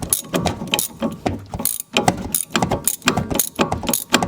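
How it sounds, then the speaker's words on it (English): A ratchet clicks in quick, uneven bursts while loosening strut bolts on a 2011 Dodge Charger, the pawl's rapid metallic ticking close up and separated by short pauses. "with the ratchet"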